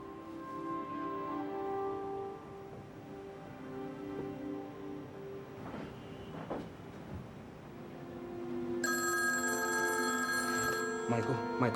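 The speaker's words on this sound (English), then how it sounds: "Go answer the phone." A telephone rings in a tense 1993 crime drama scene, a repeated electronic bell tone sounding under music and ambience, growing louder near the end, with no voices over it.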